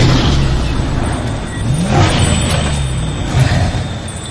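A stopped vehicle blocking a road, its engine running loud and close with rising revs and rumbling low-end noise, a steady roar throughout with no clear talk.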